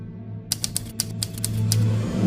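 Rapid clacking keystrokes from typing in the real-time strategy game Touch Type Tale, about a dozen crisp taps in an irregular burst over a low background hum.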